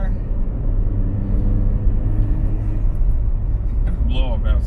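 A turbocharged R56 Mini Cooper S drives past with a deep, steady engine rumble that stays loud throughout, and a short hiss of the blow-off valve comes near the end.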